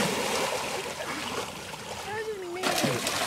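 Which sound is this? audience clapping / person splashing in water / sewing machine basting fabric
person splashing in water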